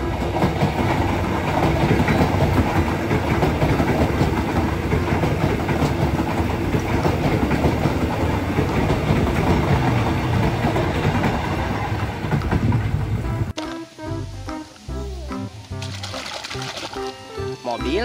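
Toy electric train rumbling and clattering loudly and steadily for most of the clip, then stopping abruptly, followed by quieter handling sounds.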